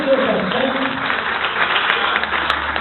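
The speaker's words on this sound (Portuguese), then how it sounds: "Só quem concorda comigo aplaude bem forte ao Senhor, bem forte." A church congregation applauding loudly at a worship service, a dense wash of clapping with some voices mixed in, steady throughout.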